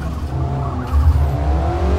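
Car engine revving hard with tyre noise as it brakes into a corner during a race in Forza Motorsport 2023, played on a PXN V10 wheel; a steady loud drone with no voices.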